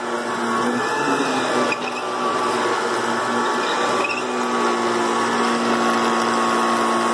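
A 1973 Electrolux 1205 canister vacuum cleaner with its power nozzle attached runs steadily and loudly, holding a constant motor drone with a faint whine riding over it, and no one speaks.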